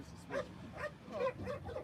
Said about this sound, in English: Then y'all got that weak ass dog in the back.